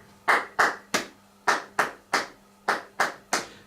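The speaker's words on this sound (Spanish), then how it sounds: "un ritmo estándar de tres palmas creado con los acentos de la melodía" Eight sharp hand claps, close and dry, grouped in three-beat rhythmic phrases with brief gaps between groups, demonstrating a standard three-clap pattern for sung phrasing practice.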